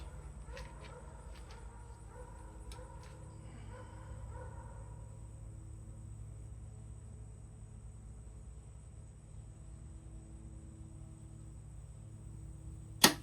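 Arrow from a homemade budget build striking an archery target outdoors: a single sharp, loud impact near the end, preceded by a long quiet stretch with a steady low hum and a few distant dog barks early on.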